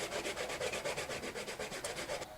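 A wooden bed leg repurposed as an ice fishing rod handle is sanded by hand in steady, rapid back-and-forth strokes, a close, continuous rasping rub with no voices.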